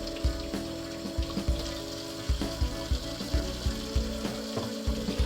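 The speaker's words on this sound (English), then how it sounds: "And now I'm just going to put some water in those." Water runs steadily into a cooking pot of chitterlings, a continuous pour with a series of soft, rhythmic low thumps and splashes, close and fairly loud, with no talking.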